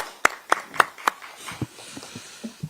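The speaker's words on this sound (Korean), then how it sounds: "여러분 큰 박수로 맞이해 주시기 바랍니다." A small audience claps to welcome a speaker at a political party gathering, with a few sharp, evenly spaced claps up front that thin into scattered, softer claps.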